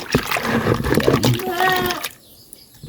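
A hand stirs molasses into liquid for a goat remedy, giving wet splashing and sloshing over a man's speech that fades to near quiet at the end.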